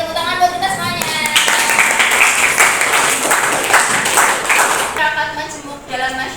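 Classroom applause in an Indonesian lesson, a burst of hand clapping from a class that rises after a spoken line, holds steady for several seconds, then fades as voices return.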